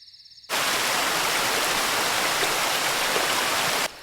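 Water pours steadily while someone bathes, a dense continuous rushing hiss that starts abruptly, holds at an even level for a few seconds, then cuts off.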